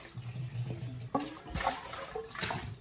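Running water splashes in a bowl as turkey is soaked and cleaned, a steady close wash with shifting splashes and gurgles throughout.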